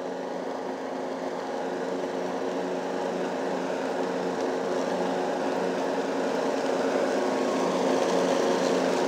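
A lawn mower running continuously while mowing a bumpy, uneven lawn, a steady droning engine hum close by that grows slightly louder toward the end, with no talk.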